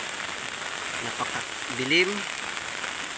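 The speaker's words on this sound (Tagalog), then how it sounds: "malakas na ulan na may kasama bugso ng hangin" Heavy typhoon rain with gusting wind in Masbate Province, Philippines: a constant close hiss of downpour while someone speaks briefly over it.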